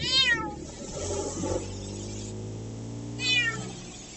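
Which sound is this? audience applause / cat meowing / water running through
cat meowing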